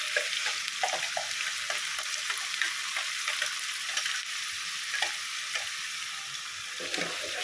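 Ingredients for a pepper crab gravy sautéed in a pan, with a continuous close sizzle of frying and repeated scraping and stirring strokes throughout, and no talking.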